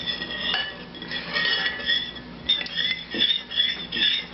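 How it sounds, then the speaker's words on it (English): A spoon clinks and scrapes against a bowl while stirring a slime mixture, giving a run of uneven, close taps and scrapes with short pauses between. "Then you stir"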